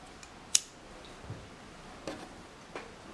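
Scissors snipping crochet yarn for a crochet flower, one crisp sharp snip followed by a few softer clicks and ticks, close and quiet with no talk.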